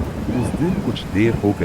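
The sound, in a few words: heavy rain and thunder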